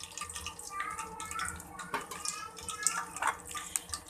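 Cumin seeds hit hot cooking oil in a pan and sizzle steadily with a crackling, hissing texture, close by, while someone talks over it.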